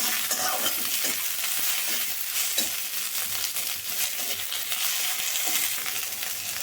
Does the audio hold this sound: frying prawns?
yes